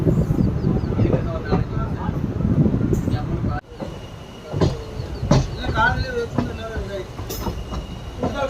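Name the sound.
passenger train moving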